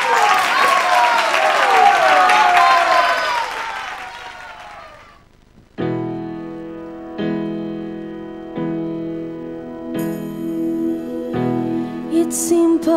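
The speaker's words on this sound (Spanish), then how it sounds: "fuerte el aplauso" A talent-show audience bursts into loud, close applause for about five seconds, then it fades out and solo piano notes begin playing in spaced chords.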